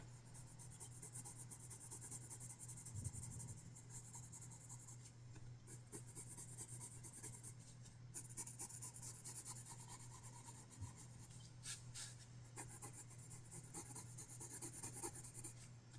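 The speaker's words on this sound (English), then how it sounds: "I just felt like using my coloring pencils today." Colored pencil scratches steadily across paper while a watermelon slice is drawn and shaded, a close, continuous dry rubbing with small changes in stroke rhythm and a low steady hum underneath.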